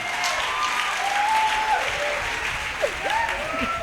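Congregation applauding at a church service, a steady wash of clapping with crowd noise throughout, with a voice briefly rising over the clapping.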